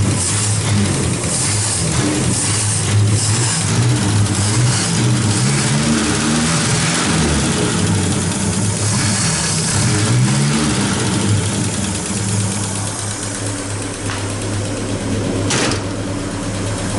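A Chevrolet Opala's engine runs loud and close, rumbling continuously as it is revved and accelerated in rising and falling surges, with no voices over it.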